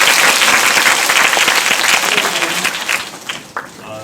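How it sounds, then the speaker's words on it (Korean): Dense audience applause fills a cinema during a stage talk for the film Parasite two days after its release. It is loud and steady, then thins and fades near the end. "네, 박수 부탁드립니다."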